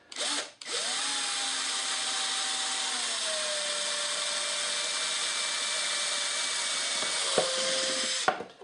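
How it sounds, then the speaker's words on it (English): A power drill bores a hole into the shoulder of a plastic Fiji water bottle, a steady high whine that holds for about seven seconds, dropping slightly in pitch partway through, then cutting off with brief clicks at the end. "we're going to drill a hole right in the shoulder of the bottle, up near the top."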